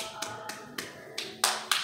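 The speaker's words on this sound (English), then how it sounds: "clap your hands" A few sharp, separate hand claps ring out in a church, spaced roughly a quarter second apart, faint and roomy with a slight echo, the last ones louder.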